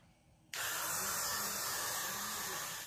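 A close aerosol can of hair spray starts with a sudden hiss and blasts continuously onto a curly short bob wig along the hairline for about two seconds, steady and loud.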